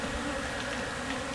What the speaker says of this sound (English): I got a couple bees here